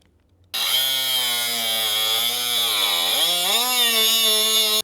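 A small power cutting tool slices into the aluminium body panel of a Mercedes being converted, a loud steady high whine starting abruptly and dipping briefly in pitch as it bites, then running on alone.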